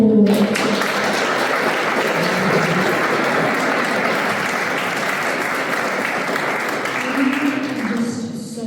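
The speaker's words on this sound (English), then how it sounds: "Let's give them a round of applause." Sustained applause from an audience at a youth faith program in Auckland, a dense steady wash of clapping lasting several seconds, loud and close, with a few voices cheering over it.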